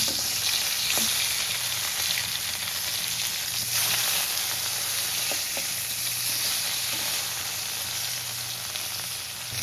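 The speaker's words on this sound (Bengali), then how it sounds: "এবার আমি মাছগুলো ভেজে নেব। মাছগুলো ভালো করে ভেজে নেব।" Pieces of rohu fish fry in hot oil with a constant loud sizzle and crackle. A few faint clinks come from the pan, and no one talks.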